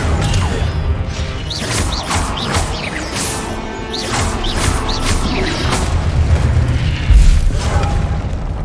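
A magical Incendio fire spell in Hogwarts Legacy erupts in a loud burst of booming, crackling blasts with repeated whooshing impacts over steady game ambience, continuing for several seconds.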